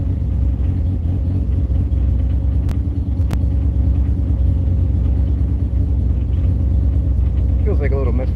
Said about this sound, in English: Feels like a little misfire